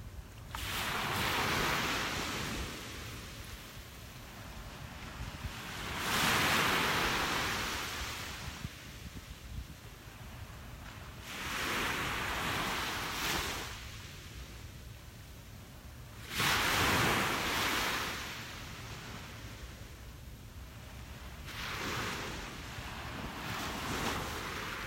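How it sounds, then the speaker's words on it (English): Ocean waves breaking on a beach at sunrise, a soft wash that swells and recedes in slow rolling surges every few seconds, faint and distant, with wind noise and no talk. "the waves sound so pretty today"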